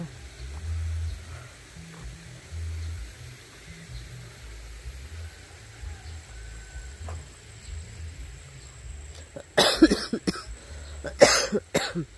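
A woman outdoors at a ranch lets out two short, loud coughing bursts close to the microphone, following a stretch of low background rumble and faint ambient noise.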